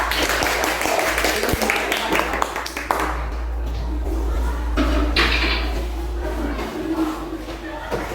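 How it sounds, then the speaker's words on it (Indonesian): Students in a classroom clap for group 4, a dense patter of hand claps that fades and returns while a few voices carry over it. "beri tepuk tangan untuk kelompok 4"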